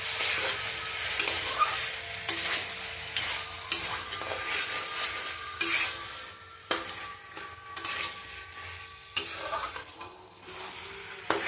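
Chicken pieces browning in oil in a pan, giving a loud continuous hiss and sizzle, with periodic scraping strokes of a spatula stirring the meat.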